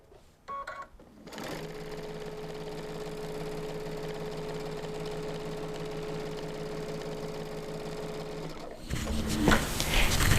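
A sewing machine stitches steadily through free motion quilting, its fast even hum continuing for several seconds at close range, preceded and followed by brief handling noises.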